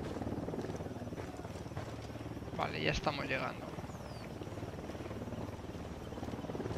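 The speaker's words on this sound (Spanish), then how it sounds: "Se acerca un helicóptero al suelo." In the Ghost Recon video game, a helicopter approaches over jungle as a steady low droning hum, fairly faint beneath someone talking.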